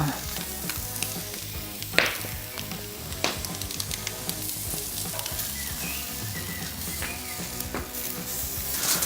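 Flank steak sizzles loudly and steadily on a very hot grill, a close, continuous crackle with scattered sharp pops and spits.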